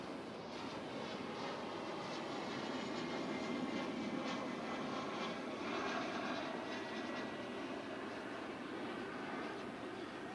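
Jet engine noise from an aircraft at DFW Airport, a steady, broad distant roar holding level for the whole stretch without rising or falling, no voices.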